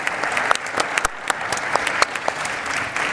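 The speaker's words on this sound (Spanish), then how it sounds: "públicamente a Silvia Torres Carbonell, creo que está acá, con un fuerte aplauso" Audience applause at a business conference in Argentina: dense, steady clapping from a large crowd with sharp individual claps standing out, filling the whole stretch with no speech.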